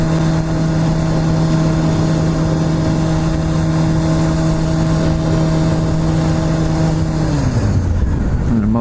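A motorcycle engine drones steadily while riding through the small town of Sandpoint, Idaho, a loud constant hum with wind noise that drops in pitch near the end as the bike slows.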